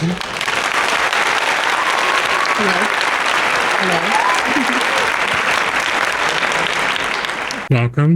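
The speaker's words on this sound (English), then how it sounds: "It's our capture studio audience, so of course I will clap on cue." Dense applause from a studio audience clapping on cue fills the whole stretch, loud and steady, with voices audible beneath it before it cuts off near the end.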